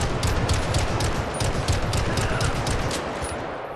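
Rapid gunfire in GTA 5 with the LSPDFR police mod, a dense fusillade of crackling shots over a steady roar, loud and continuous before easing slightly at the end.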